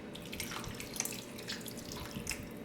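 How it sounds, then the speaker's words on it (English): Water is poured into a pot of rice for vegan rice dressing, a soft, steady splashing trickle that runs continuously and stays fairly quiet and close, with no talking. "I'm gonna go ahead and add a little bit more water"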